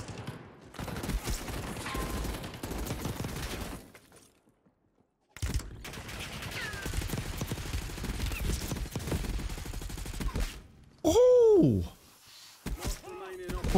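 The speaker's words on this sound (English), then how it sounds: "KSV? Oh, I love this gun." KSV gun fire in Call of Duty Warzone: dense rapid automatic bursts with mechanical clatter, broken by brief gaps, alongside game effects and a rising whoosh near the end, with talk mixed in.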